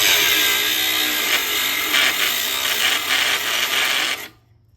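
A cordless angle grinder cutting exhaust pipe on a 1986 Ford 7.3 IDI diesel, a loud, close, high whine with gritty rasping that holds steady for about four seconds, then stops abruptly.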